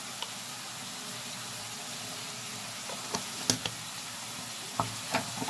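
Paprika, salt, cumin and thyme-seasoned food stirred in a sizzling frying pan, steady frying hiss with a few sharp scrapes and clicks of the spoon against the pan toward the end.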